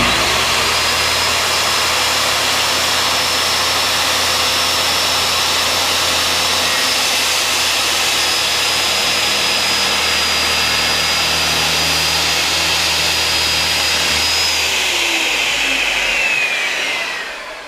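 A Skil circular saw runs continuously at full speed with a loud, steady high whine and rushing noise, then winds down near the end.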